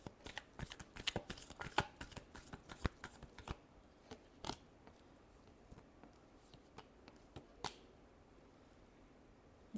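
Tarot cards shuffled by hand in a run of crisp riffling bursts and snaps, close and fairly quiet, thinning out to a few isolated flicks and taps near the end.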